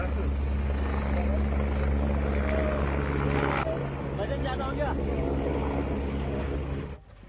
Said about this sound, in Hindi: हल्द्वानी में राष्ट्रीय महामंत्री दुष्यंत गौतम और बीजेपी प्रदेश अध्यक्ष का हेलीकॉप्टर उड़ते समय अनियंत्रित हुआ